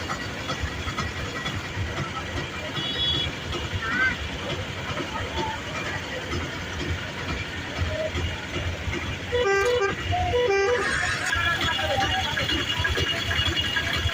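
Traffic jammed near a crowded petrol station at Jaklapur in Nirmal district during a tanker strike, with a constant engine rumble, scattered horn toots and a burst of loud honking near the end, under people talking.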